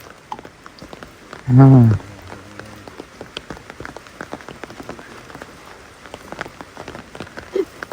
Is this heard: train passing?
no